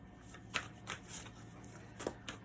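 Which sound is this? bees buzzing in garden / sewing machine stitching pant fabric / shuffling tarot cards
shuffling tarot cards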